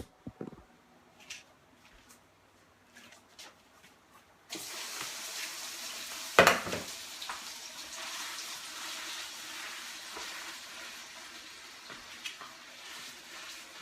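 Food sizzles in a skillet at a healthy meal prep, starting quietly and then turning into a sudden steady hiss as ingredients hit the pan, with a sharp crackle burst early on and continuous frying after.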